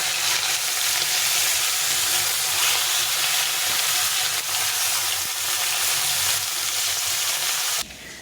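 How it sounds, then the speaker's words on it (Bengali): Fish frying in hot soybean oil, made for a winter curry with eggplant, beans and tomato, gives a loud, steady sizzle with a constant bubbling hiss. It runs unbroken for about eight seconds, then quiets slightly at the end. "মাছটা ভাজা হচ্ছে"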